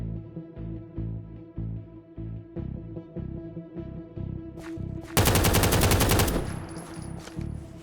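Rapid automatic gunfire in modded Minecraft: a fast, even stream of loud close shots, then a denser, harsher burst of fire with a roaring blast that fades out, and no voices.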